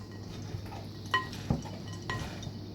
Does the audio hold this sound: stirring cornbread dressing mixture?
yes